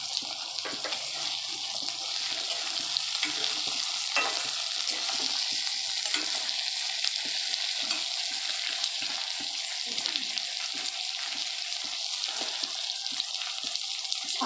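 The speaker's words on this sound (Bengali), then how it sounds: "সবগুলোকে একসাথে ভাজা ভাজা করে নেব।" Cashew nuts fry in a pan, giving a dense, even sizzle that runs throughout, with frequent soft clicks and scrapes from stirring up close and no talking.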